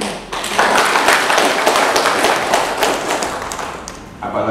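A crowd in Bengkulu applauds the IGI teachers' organization, loud, dense, continuous clapping from many hands that fades slightly toward the end, with no speech over it.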